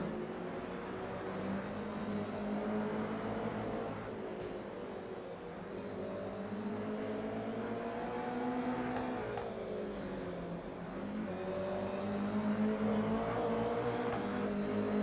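Toyota 86 race cars scream flat out down a long back straight in a racing game, a steady high engine drone with rising and falling pitch as gears shift, loud and continuous without talk.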